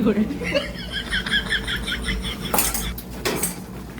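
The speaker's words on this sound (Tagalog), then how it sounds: "Konting toyo, halu-haluin ulit." Utensils clink and scrape against a pan while food cooks down with soy sauce, a run of rapid metallic taps followed by two sharper scrapes, with voices and light laughter underneath.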